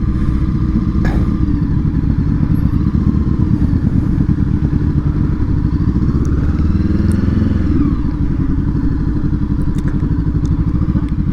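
Motorcycles riding in the Forza Horizon video game at a packed car meet: a steady, loud engine drone with low rumble throughout, shifting pitch as the bikes rev and pass.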